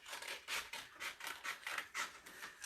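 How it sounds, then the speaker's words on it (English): Rhythmic crisp snipping of scissors cutting, about six evenly spaced strokes at close range, steady and fairly quiet with no voices. "Go ahead and use my scissors tonight since I got the oldest razor blade ever"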